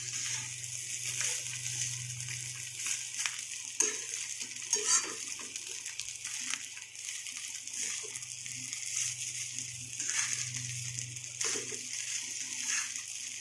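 Rice being stirred together with veggies and corn in a pan for a sizzling veg sizzler, with soft scraping and clinking of a utensil over a low, steady sizzle, moderately quiet and close.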